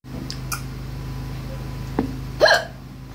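A person hiccups a few times, with sharp isolated catches spaced out over a quiet background and the loudest one near the end.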